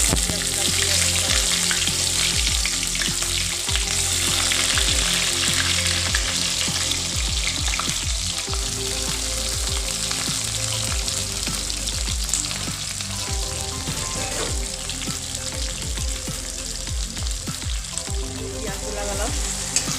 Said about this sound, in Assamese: লাৰি থাকক, ৰঙচুৱা হ'লে পিঁয়াজবিলাক।